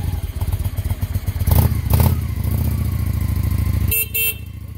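An older Honda motorcycle idles nearby with a loud, lumpy, throbbing beat after its choke is shut off, and a couple of short horn-like toots sound near the end.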